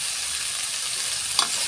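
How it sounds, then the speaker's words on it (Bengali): Bitter gourd with potato, onion and garlic fries in a pan with a steady, close sizzle. A brief clink of a utensil stirring sounds near the end. "আমি করলাটা আলুটা পেঁয়াজ রসুন দিয়ে করছি, এর সাথে ভালো করে ভাজা ভাজা করে নেব।"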